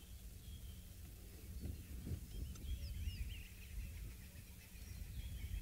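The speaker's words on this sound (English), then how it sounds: "I can hear birds are making some noise at the moment." Birds call and chirp in the distance on an African safari livestream, with faint scattered high tweets over a steady low outdoor rumble and wind.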